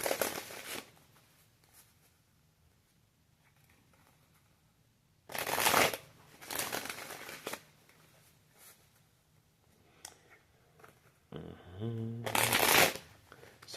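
Tarot cards shuffled by hand in several quick riffling bursts, close and crisp, separated by quiet pauses, with a brief soft voice-like murmur near the end.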